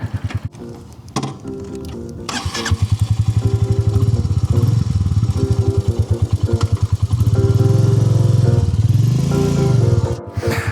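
A Royal Enfield Meteor 350 motorcycle engine thumps steadily, revving and settling as the bike rides along, loud and close, with gear shifts and a brief drop near the end.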